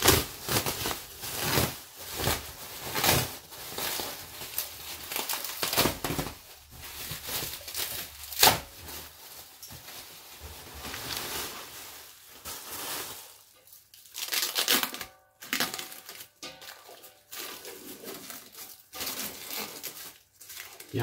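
Material ripped apart by hand in a garage while swapping the exhaust line on a Mazda RX8, with repeated rough tearing and crinkling bursts up close, some louder, spread over about twenty seconds with short pauses.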